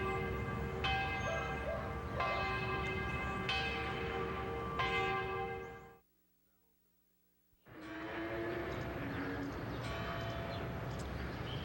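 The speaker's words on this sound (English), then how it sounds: "One of these bells of St. Anne's was taken from a captured American schooner, and they are reminiscent of centuries past." Church bells of St. Anne's in Penetanguishene, Ontario, one taken from a captured American schooner, ring in loud repeated resonant strokes, stop for a silent gap, then resume.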